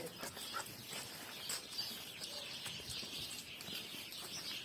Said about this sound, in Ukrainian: Горобчики цвірінькають.